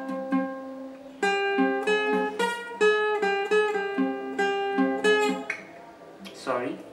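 An acoustic guitar plays the filler riff from a song, a quick run of bright plucked notes in a steady picking rhythm, close and clear, trailing into a brief scuffled stop near the end.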